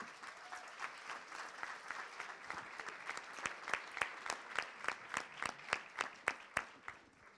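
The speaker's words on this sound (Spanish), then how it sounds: "me parece que vale la pena el aplauso para reconocer tanto laburo" An audience at a food policy congress applauds in recognition, the clapping starting softly and growing stronger and more distinct toward the end, with crisp individual claps near the close.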